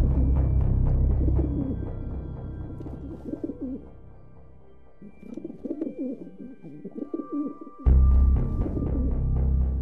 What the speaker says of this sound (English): I can still hear these birds. It sounds like pigeons, but where are they?